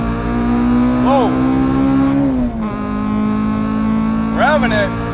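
Acura RSX Type R with a naturally aspirated, high-revving engine idles loudly up close, then gets two quick revs that rise sharply and fall back, with a steady engine drone between them.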